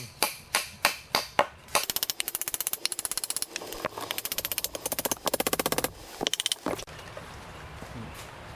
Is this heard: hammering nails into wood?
yes